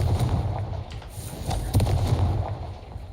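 A Confringo spell from Hogwarts Legacy fires off in a rumbling, crackling burst, a dense run of muffled blasts and pops over a heavy low roar, with no voice over it.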